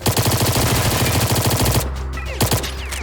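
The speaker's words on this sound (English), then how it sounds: "Man, bullets fly out fast at this gun." Rapid automatic gunfire in the online shooter STALCRAFT X: a loud, fast, unbroken stream of shots lasting about two seconds, then a brief pause and a couple of final bursts.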